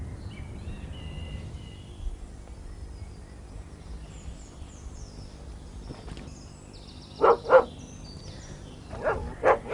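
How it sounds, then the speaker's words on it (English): A dog gives a few barks in quick succession near the end, fairly loud against a quiet, faintly hissing background with no voices. "Shut the dog up."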